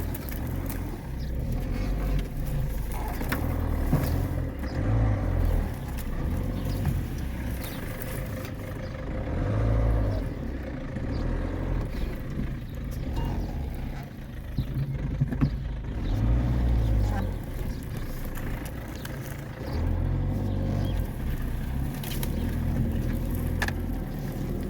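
A Peugeot 207 1.6 HDI diesel car being driven again after a restoration, with a steady low engine rumble and road drone running continuously at fairly even loudness throughout, with no voices.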